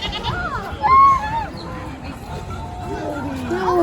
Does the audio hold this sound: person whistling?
no